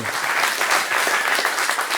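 A crowd at a live quiz show claps for the winning team, a loud, even burst of applause filling the whole brief moment without a break.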